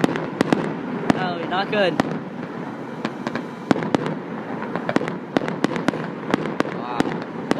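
Fireworks burst repeatedly at a winter festival finale, including a rapid multi-shot cannon barrage, with sharp cracks and booms at irregular intervals, some whistling trails, and people exclaiming over the blasts.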